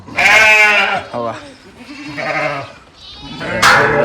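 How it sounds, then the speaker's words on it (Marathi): Goats bleat loudly and repeatedly at close range while a flock of goats and sheep is vaccinated at a farm after a trip to the Lonand market, with people talking over the calls. "शेरड तर ओरडते"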